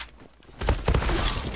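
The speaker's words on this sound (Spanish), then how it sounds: "es un arma que tiene muchísima rapidez de disparo" An MPT-76 rifle in the shooter game Zula fires in fast, rattling bursts that start abruptly after a quiet moment and continue loud and close, with shots running together.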